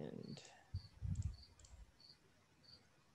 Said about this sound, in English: also, I hear crickets